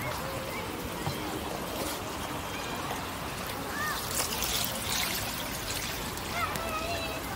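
Water flows and trickles from a fountain in Al Azhar Park, Cairo, a steady outdoor splashing wash heard at moderate distance, with people talking over it.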